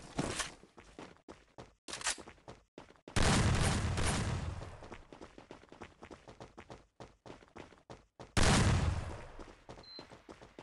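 Gunfire in the mobile battle-royale shooter Free Fire Battleground: repeated sharp bursts of shots, several loud close volleys with shorter scattered pops between them and brief quiet gaps, plus light footstep-like taps.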